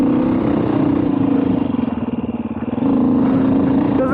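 A 2020 Beta 500 RRS dirt bike engine roars loud and close under throttle, a gruff, pulsing exhaust note that dips briefly mid-way then swells again while riding.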